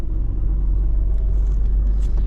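A car drives along a road, heard as a loud, steady low rumble of engine and tyres that fills the whole stretch without a break.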